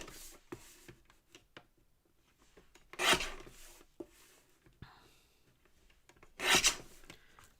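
A paper trimmer blade slices a black card base for a handmade greeting card, giving two short, sharp rasping cuts a few seconds apart amid faint handling noises.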